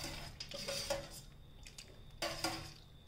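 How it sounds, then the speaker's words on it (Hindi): Oil-fried peanuts are tipped into poha and mixed, giving close metallic clinks and scraping of a spoon against a vessel in two short bursts, with no talk. "अब इसमें हम डालेंगे मूंगफली।"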